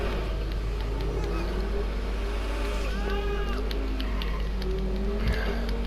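Car engine droning steadily while driving around a busy city block in the video game GTA V, with a voice talking over the hum throughout.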